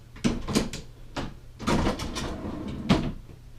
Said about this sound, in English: So let's get this other drawer in here.